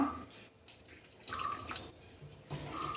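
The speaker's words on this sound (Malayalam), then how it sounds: "നമുക്ക് ആവശ്യത്തിന് വെള്ളം ഒഴിച്ചു കൊടുക്കാം" Water trickles and drips into a bowl of henna powder hair-dye mix, faint intermittent splashes and small pours close by, with soft handling noises between.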